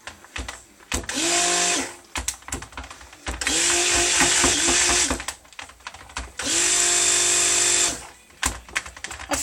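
A blender churns soap batter in three long bursts of steady, loud whirring, each running for about two seconds, with short quieter pauses and small clatters in between.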